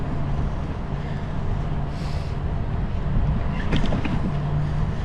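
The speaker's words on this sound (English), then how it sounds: "It's windy, it's cold." Wind roars across the microphone during a cold, windy outdoor bike ride on a greenbelt trail, a steady loud rumble with no talking.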